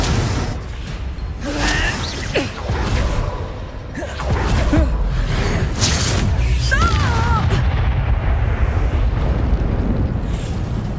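Fire-blast Confringo spells explode during a Hogwarts Legacy duel, with deep booms and whooshing bursts landing one after another, mixed with other spell effects and voices speaking over the fight.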